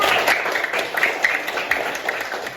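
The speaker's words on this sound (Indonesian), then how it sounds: "tepuk tangan Satria" A class of children applauding a classmate in a lesson, a crisp burst of many hands clapping that stays fairly loud, then gradually thins and fades.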